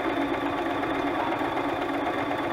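A sewing machine stitches a zigzag in a steady, close, continuous mechanical whir and rapid clatter, alone with no talking.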